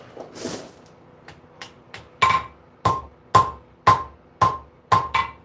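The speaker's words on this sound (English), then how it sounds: "Let's flatten the bit that's going to be the gouge." A hammer pounds steel flat for a gouge blank in a Maine blacksmith shop, starting with a few lighter taps and then settling into a steady run of sharp, ringing blows, close and loud with no talk.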